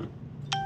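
Single short electronic telephone keypad tone on a hotel room phone, sounding once near the end over a low background hum.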